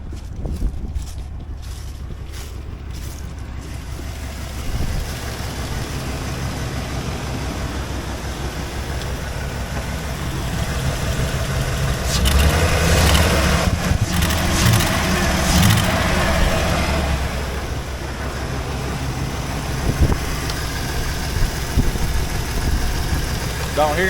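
A 1972 Chevy crew cab truck engine idles steadily with a low rumble, swelling into a louder rev midway before settling back, with a brief clattering start at the opening.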